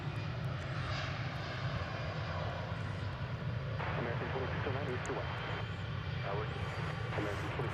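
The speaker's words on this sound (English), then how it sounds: "that flight we were looking at earlier, going out to Kansas City, is now rolling down runway 36 right" An airliner bound for Kansas City rolls down runway 36 right for takeoff at DFW Airport, a steady, continuous engine roar that holds at an even level throughout, with louder broadband rushing in the latter half.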